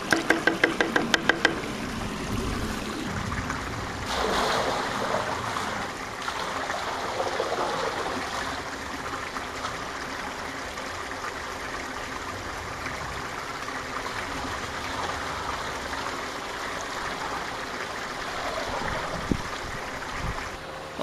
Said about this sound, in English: Then I'm going to pour it into the pool around the perimeter.